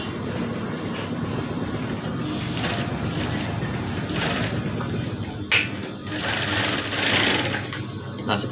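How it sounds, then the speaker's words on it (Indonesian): A sewing machine stitches fabric in a steady, continuous rattling whir, loud and close, with small surges and brief pauses in speed as the seam runs on. "Jahit terus ya."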